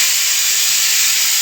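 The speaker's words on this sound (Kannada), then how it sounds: "ನಾನು ಪಲಾವ್ಗೆ ಇಟ್ಟಿದ್ನಲ್ಲ, ಅದು ವಿಷಲ್ ಕೂಗ್ತಾ ಇದೆ, ಕೇಳಿಸ್ಕೊಳ್ಳಿ" A pressure cooker whistling while mung dal pulao cooks in a home kitchen: a loud, continuous, close steam hiss with a high-pitched whistle that holds steady throughout, with no talking.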